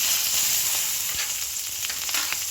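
Green chilies hit hot tempering oil that already holds popped mustard seeds and asafoetida, giving a strong close crackling sizzle with scattered pops for a few seconds, without any talk.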